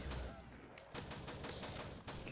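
Desert Eagle pistol with Terminator upgrade firing in a Call of Duty zombies gun game match, a dense run of sharp game shots with spammed rapid rhythm throughout, loud and close over busy game noise.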